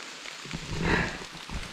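Steady rain falling on a forest trail in the hills on a Himalayan trek, a soft continuous patter with a slightly louder swell midway through.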